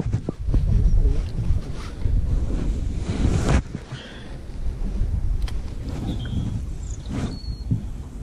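Steady wind rushes and buffets the microphone outdoors by a reservoir, Bewl Water in England, with a continuous low roar and occasional gusts swelling throughout.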